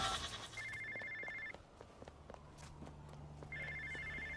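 A phone rings in the superhero video game InFAMOUS: First Light, two bursts of trilling electronic ring separated by a pause, set over quiet background game ambience with faint footsteps.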